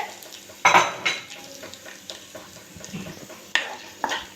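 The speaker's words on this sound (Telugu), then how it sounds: "అలానే జీలకర్ర ఎండుమిర్చి కొన్ని లైట్గా వేసుకుంటే పోపు అనేది చాలా బాగుంటుందండి" Cumin and dried red chillies tempered in hot oil, a soft sizzle under sharp metal clinks of a spoon stirring against the pan, with a few louder knocks.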